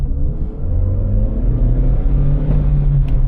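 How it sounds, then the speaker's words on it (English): A car's engine held at full throttle in first gear, a loud, steady close-up rumbling drone that stays strained and even throughout without clear revving changes. "First gear, floor it."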